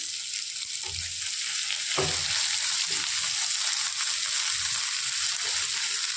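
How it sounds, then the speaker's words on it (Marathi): Chopped onions sizzle steadily in a pan for a Punjabi-style mutton dish, a continuous close frying crackle broken by a few stirring scrapes and clunks, with no talking. "कांदे आपल्याला फ्राय करून घ्यायचे."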